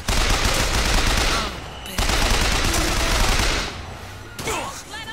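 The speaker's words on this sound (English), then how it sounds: "Who the hell's shooting me?" Rapid gunfire in the BioShock Infinite video game, loud bursts of automatic shots in a sustained barrage, a short pause, then more volleys and a fading tail.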